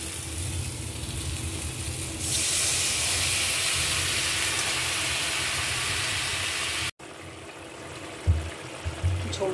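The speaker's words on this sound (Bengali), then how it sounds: "ঝোলটা ফুটে গেছে।" Chicken curry gravy simmering in a pot for a homemade chicken dish, a steady close hiss that grows louder partway, breaks off briefly, then returns softer with a few low thumps near the end.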